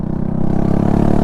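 A small scooter engine runs without a silencer, a loud, close, steady, throbbing idle with a raw, rough exhaust drone.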